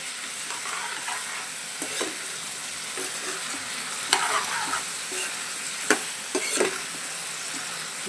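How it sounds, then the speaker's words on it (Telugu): Brinjal pieces being stirred with salt in a frying pan for a dried-fish curry, a steady soft sizzle broken by a handful of sharp spatula scrapes and knocks near the middle and end, with no talking. "ఉప్పు కూడా తిప్పుదాము, కలుపుదాము మొత్తం కలిసేలాగా."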